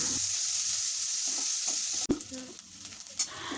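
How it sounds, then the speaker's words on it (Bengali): Chopped onions sizzle in hot oil for a Bengali jackfruit-and-prawn curry, a steady hiss that breaks with a sharp clatter as they are stirred, followed by scraping and sputtering. "পেঁয়াজটাকে একদম লাল লাল করে ভেজে নিতে হবে।"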